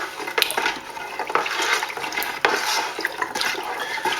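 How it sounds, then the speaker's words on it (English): Ribena wine mixture with yeast nutrient sloshes and splashes as it is stirred in a container, a steady wet churning with sharper splashes scattered throughout, close and alone. "Right, just give that a stir."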